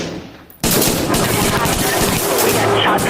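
Rifle gunfire from a political campaign ad: after a quiet moment, a sudden dense burst of rapid shots starts and goes on loud and harsh to the end.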